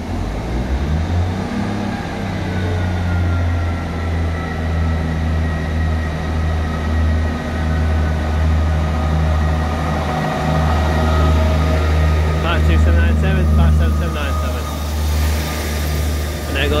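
A Northern class 158 diesel multiple unit, 158797, departs Halifax station for Huddersfield with a deep, loud, rumbling engine drone that builds as it pulls away, plus a brief higher rattle near the end.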